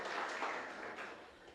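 A church congregation applauds during a worship service, a soft, even patter of many hands that stays steady throughout and seems somewhat distant, with no voices over it.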